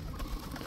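Pigeons coo in a brief, soft, low murmur, faint and close, with no voices.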